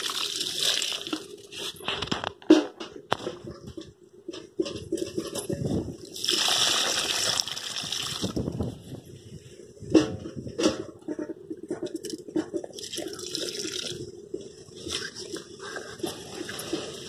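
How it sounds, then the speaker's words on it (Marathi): Water poured by hand onto a potted jasmine (mogra) plant, coming in irregular splashing and trickling bursts close by, with short pauses and small knocks between pours. "आता आपण ह्याला असे पाणी देऊ."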